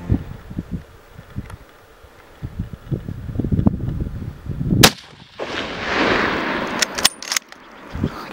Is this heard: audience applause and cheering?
no